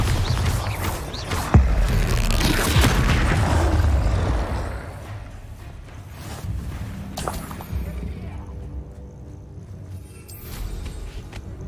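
A Bombarda blasting spell goes off in Hogwarts Legacy: a sharp, loud burst lands early, over heavy low rumble that gradually dies down into a quieter, steady background drone.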